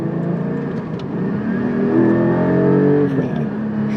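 A Porsche 718 GT4 engine revs on a regular street during its break-in drive, a steady mid-pitched drone that climbs and holds, close and loud, with no talk over it.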